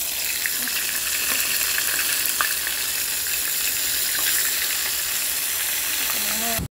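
Beef meatballs frying in oil in a pot give off a steady, loud, even sizzle with faint crackles throughout, ending abruptly.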